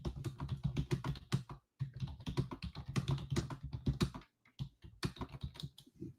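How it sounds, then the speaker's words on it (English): Fingers type on a computer keyboard in quick, irregular bursts of close clicking keystrokes, with two short pauses between runs. "I'm going to type in our group right now"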